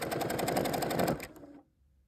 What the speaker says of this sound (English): just continue sewing that all the way down